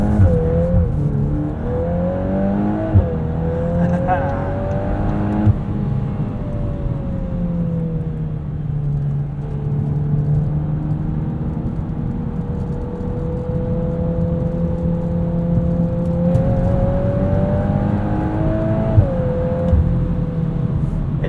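A 2022 Volkswagen Golf R with a DSG gearbox accelerates on the road, its engine note rising and falling through gear changes as a steady interior drone with tyre and wind noise.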